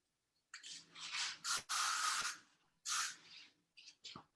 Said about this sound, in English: using the spray to blend that in to give it quite a nice graphic